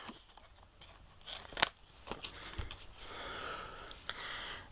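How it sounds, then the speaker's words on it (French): Scissors cutting out a small paper figure, a few short snips and paper rustles close by, fairly quiet, with no speech. "Donc, on découpe son petit personnage."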